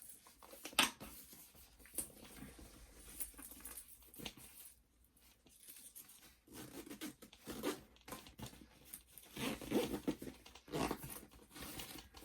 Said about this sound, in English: So let's do up our zipper.